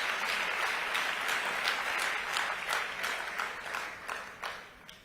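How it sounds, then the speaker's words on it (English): Audience applause at a memorial service, a steady wash of clapping from many hands that runs throughout at moderate level and thins slightly toward the end, with no talking over it. "We can clap hands for Zahara"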